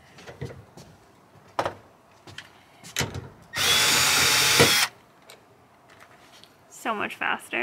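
A power drill drives self-tapping screws into plywood framing inside a van, giving one steady, loud whir of about a second between clicks and knocks, while people talk nearby.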